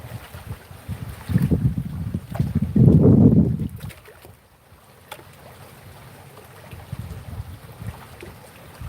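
Gusty wind blowing outdoors, roaring loudly in bursts in the first few seconds and then easing to a steadier, quieter rush, with no talk.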